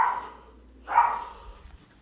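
A pet dog named Cassie indoors gives two short yips or barks about a second apart, moderately loud and close, with quiet low rumble between them.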